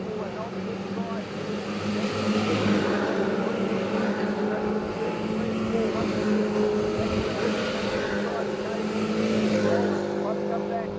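Race cars charge three wide down the front straight, a steady loud engine roar that swells and recedes as the pack passes, with a commentator talking over it throughout.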